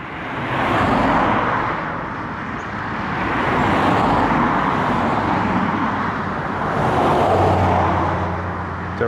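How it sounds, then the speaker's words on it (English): Cars sweep past on a road in steady succession, each swelling loud and close then fading, with a low engine rumble and tyre roar blending into continuous traffic noise. "All right, here comes some cars."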